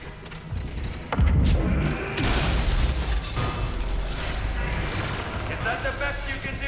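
A grenade blast in the Mass Effect 3 combat: a heavy booming thump rolls out amid continuous loud gunfire and battle noise, with a second burst shortly after and voices talking over the din.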